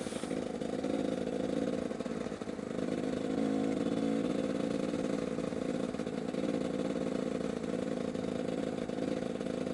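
A motorcycle engine running steadily during a ride along country fields and dirt tracks, a close continuous mid-pitched drone with slight fluctuations in revs, no talk.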